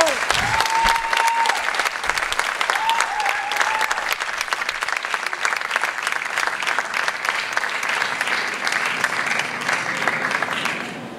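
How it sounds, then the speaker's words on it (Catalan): An audience at a Catalan elastic performance event breaks into sustained applause, dense clapping that holds strong for several seconds before gradually thinning, with a couple of brief whistles or cheers near the start. "Un aplaudiment."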